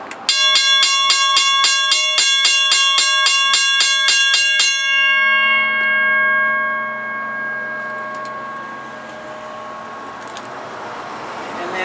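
A WCH mechanical railroad crossing bell from Moscow, Idaho strikes rapidly and evenly for about five seconds, loud and close, then stops and its metallic ring slowly fades away.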